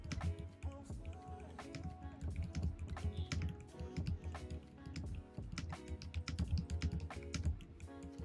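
Rapid, continuous clicking of computer keyboard keys during typing practice, close and fairly quiet, with an uneven rhythm of dense keystrokes and no talk.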